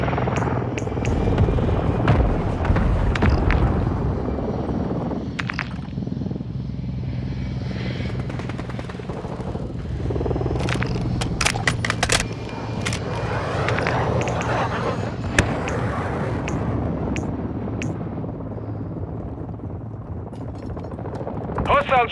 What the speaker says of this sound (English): Hostile Overwatch helo in this sector.